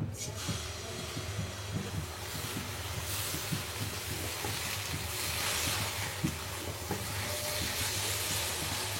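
Onion paste added to a hot pan while cooking beef dum khichuri sizzles with a steady broadband hiss, continuous and moderately loud, with faint clinks and no voices over it.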